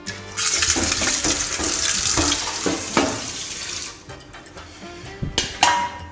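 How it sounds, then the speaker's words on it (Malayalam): Dishes are washed under a running tap, with a steady gush of water and occasional clinks and knocks of the dishes. It sounds close, with no talking. "പാത്രം കഴുകുക."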